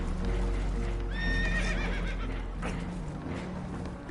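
Spooked horses whinny and neigh loudly in Red Dead Redemption 2 aboard a damaged boat, with hoof clatter and a rumbling low background beneath the high, shaky neighs.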